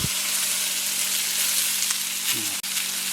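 Vegetables hit a hot wok for an Ethiopian enkulal firfir, giving a steady close broadband sizzle that holds throughout, with a brief hiss and clatter near the end.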